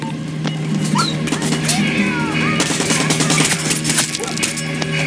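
Rapid automatic gunfire in the shooter game Far Cry 6 crackles in dense, overlapping bursts for several seconds, loud and close, with a few brief voices mixed into the firefight.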